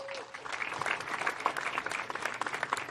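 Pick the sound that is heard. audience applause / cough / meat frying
audience applause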